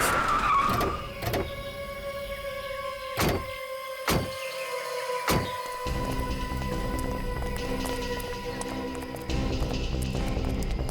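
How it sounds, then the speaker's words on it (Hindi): A car pulls up and stops on a forest road, its engine and tire noise rising then settling, with a few sharp thumps like doors and a steady idle hum continuing near and loud throughout. "ठीक है, गाड़ी यहीं रोक।"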